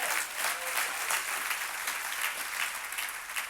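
A church congregation applauds, a dense, steady wash of clapping at an even level with no voices above it.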